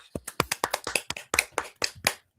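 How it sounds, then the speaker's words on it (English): A small group claps in a quick, uneven run of distinct, close handclaps, about a dozen sharp slaps over two seconds that stop abruptly. "Let's give him a round of applause."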